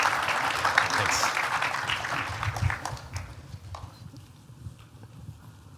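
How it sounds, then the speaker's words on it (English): A conference audience at a sports analytics event applauds loudly for an incoming speaker, the clapping thinning out halfway through as voices murmur and footsteps move nearby. "So let's give him a round of applause and bring him up here."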